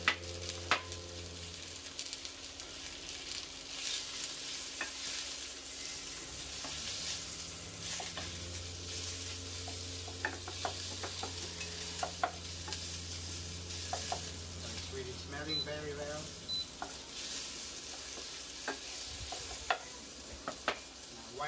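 Pork belly stir-frying for yakisoba, a steady close sizzle running throughout with scattered clicks and scrapes of a utensil against the pan.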